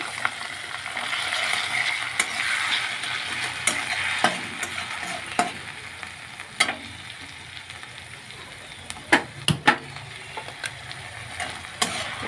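Onions go into a hot pan with ginger and are stirred for a Bengali fish curry. A continuous soft sizzle of frying runs throughout, broken by sharp spoon scrapes and clacks against the pan at irregular intervals.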